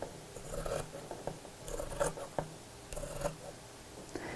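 Scissors slice through fabric for a Christmas stocking in a few short, crisp snips, close by and fairly quiet, with soft rustling between the cuts.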